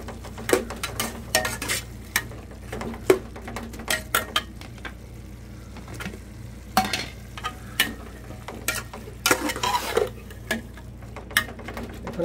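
Onion and garlic frying in a pot for camel meat biryani, a low sizzle broken by frequent sharp clinks and scrapes of a spoon against metal, with no talking.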